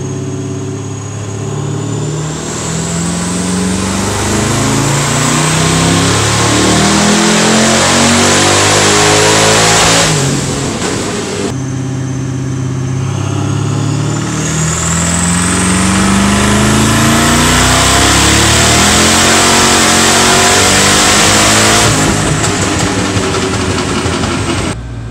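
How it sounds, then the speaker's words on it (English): A 1000 rwhp pump-gas car with raised boost roaring on a dyno in 7th gear, the engine climbing in a long loud pull, easing briefly, then winding up again in a second sustained pull, close and unbroken. "Now we are dynoing in 7th gear"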